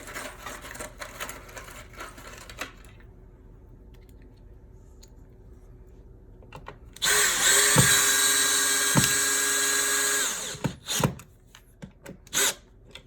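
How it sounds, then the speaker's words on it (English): A power drill drives screws into a wall while mounting an alarm console. After a quiet stretch comes a loud, sustained whining burst of about three seconds, then a few short, sharp drill pulses close by. "Now we'll drive the lower 2 screws."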